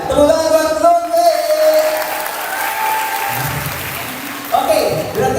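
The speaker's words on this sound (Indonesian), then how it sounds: "Tepuk tangan buat Lutfi" A fan meet crowd in Bali claps for Lutfi, the applause loud and sustained across the moment while a host's voice runs over it and fades in and out.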